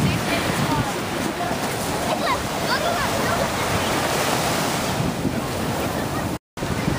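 Waves wash onto Waikiki beach in a continuous rushing roar, heavily mixed with wind buffeting the microphone, with faint voices in the background and a brief dropout near the end.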